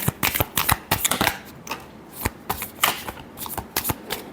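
Tarot cards shuffled by hand in a series of quick, close riffling bursts with short pauses between, fairly crisp and alone.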